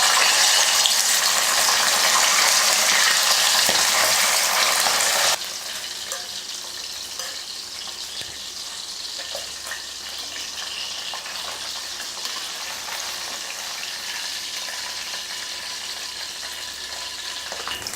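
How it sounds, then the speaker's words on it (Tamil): Fish sizzles and crackles as it fries in hot oil in a home kitchen, a loud dense hiss for the first few seconds that then settles into a steadier, softer bubbling crackle. "இப்போ மீன் போட்டு பொரிச்சிக்கலாம்"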